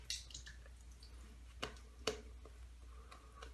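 Wet Haslinger honey shaving soap worked into a lather with a touch of added water gives faint soft squishing and a couple of sharper wet clicks, close and quiet.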